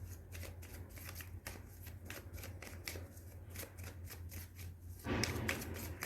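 Tarot cards being shuffled by hand at close range, giving a quiet run of rapid papery riffles and flicks that ends in a louder burst of shuffling, with no talk.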